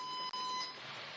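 Steady electronic beeping from an alarm keypad at a garment workshop's entrance, faint and continuous with a brief break, no talk.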